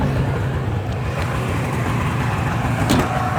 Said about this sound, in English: Turn the car on. Give it a little choke if it needs it.